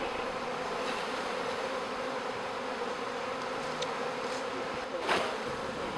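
A swarm of honey bees, tens of thousands strong and gathered around their queen outside a new hive, drones in a steady, dense buzz at moderate distance with a brief louder pass near the end.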